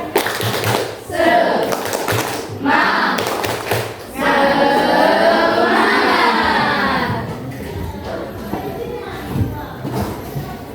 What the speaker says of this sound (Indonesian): coba satu kali tepuk semangat